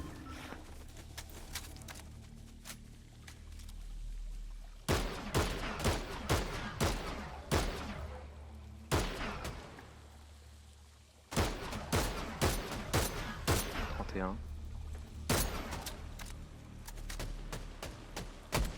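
Gunfire in the video game Fortnite comes as repeated clusters of sharp shots, some in quick rapid strings and others spaced apart, fairly quiet and heard with no talking over it.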